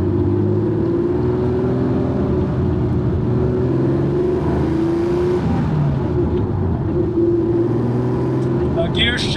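Porsche 911 restomod by Theon Design driving on a bumpy, slow road, its engine a steady close hum with gentle swells in pitch as it pulls, with someone speaking over it throughout.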